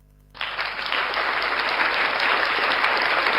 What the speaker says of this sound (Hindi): जोरदार तालियों से आप भी स्वागत करें।